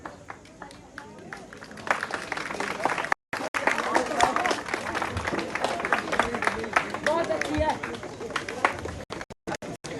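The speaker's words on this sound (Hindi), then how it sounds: "कृपया तालियां बजती रहें।" An audience applauds at an outdoor public event on the Ridge in Shimla where a painting is presented to the chief minister. Steady clapping and crowd murmur run under an announcer's voice, with brief dropouts.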